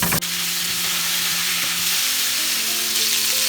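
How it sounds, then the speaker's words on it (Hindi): Potato pieces frying in hot mustard oil over medium-high flame, a loud, dense, continuous sizzle heard up close without any voices. "हमें 3-4 मिनट ही फ्राई करना है, हल्का सा कलर चेंज करना है"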